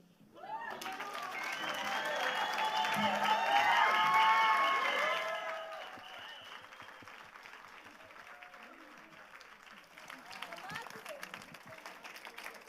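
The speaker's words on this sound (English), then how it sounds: "Give another round of applause for Maneo Mohale." An audience at a poetry reading during a livestreamed book festival bursts into warm applause with some cheering, swelling for several seconds then fading into scattered claps and murmuring as someone begins to speak.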